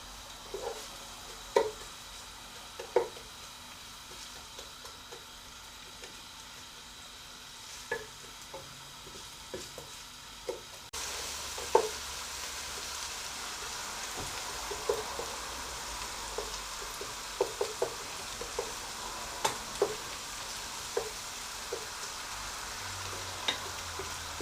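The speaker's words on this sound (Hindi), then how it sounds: "इसमें डालेंगे प्याज, और हम प्याज को फ्राई कर लेंगे" Chopped onions fry in a pan for a dhaba-style daal mash, with a steady sizzle that grows louder partway through and is broken by scattered clicks and scrapes of stirring.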